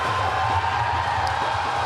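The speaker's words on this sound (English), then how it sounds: "Crowd gets more into it." Crowd cheering and shouting at a strongman log press event at the 2021 Shaw Classic, a dense steady roar heard close throughout the brief moment.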